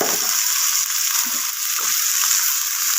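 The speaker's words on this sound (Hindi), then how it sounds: "हल्का सा इन्हें मैं रोस्ट करूँगी," Finely chopped potatoes roast lightly in hot oil in a pan for aloo pulao, giving a steady, close, hissing sizzle that runs unbroken without any voices.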